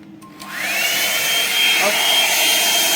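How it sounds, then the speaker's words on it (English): An air dryer on a cool setting switches on and blows steadily over a gel plate print, a whooshing fan whine that spins up and then holds close and constant. "I'm going to dry that with my air dryer"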